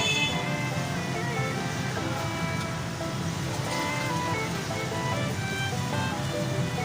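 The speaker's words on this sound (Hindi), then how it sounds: "अब इसके अंदर हम पानी शामिल कर देंगे।" Water is poured into a pan of frying chicken curry masala, producing a dense, even hiss and bubbling rush that stays loud and unbroken throughout.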